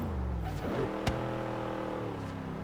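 Car engine in Forza Horizon 3 during a Ford vs Holden championship race, held in 4th gear with a steady, droning tone and one sharp transient midway, fairly quiet and alone.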